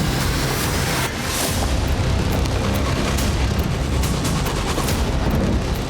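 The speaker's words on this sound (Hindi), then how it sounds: "यूक्रेन की राजधानी कीव समेत कई इलाके लगातार बारूदी धमाकों से दहल रहे।" Shelling in Kyiv: dense, continuous booming and crackling blasts fill the air, loud and broadband with no pauses, no voices heard.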